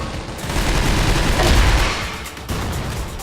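Dense, loud bursts of rapid gunfire in the video game CrossFire roll continuously, with a sharp fresh volley near the end.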